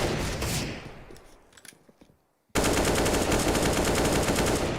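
Rapid automatic gunfire sprays during a professional Counter-Strike match near the B bomb site, loud shots fading into sparse pops and a brief silence before a sudden, sustained wall of dense firing.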